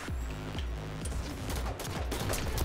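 Rapid bursts of gunfire from a Halo multiplayer match, several quick shots in clusters over steady game noise, close and loud.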